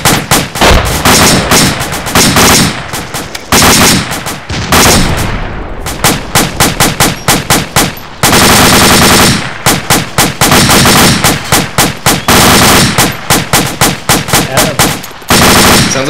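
Rapid automatic gunfire from an Arma 2 firefight, loud sustained bursts of machine-gun rounds with brief pauses between volleys, continuous throughout.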